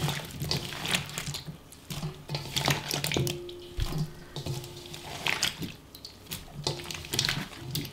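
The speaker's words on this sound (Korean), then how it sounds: "이 무에서 또 물이 생겨서 이 절인 물은 다 버릴 거예요" Salted radish brine poured out of a bowl while making kkakdugi radish kimchi, a steady splashing water stream with intermittent gurgling and drips, close and moderately loud.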